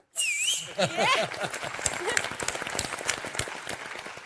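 Applause and sharp whistles from a studio audience on a televised cooking competition cheer a contestant, with rising whistle tones at the start giving way to steady clapping.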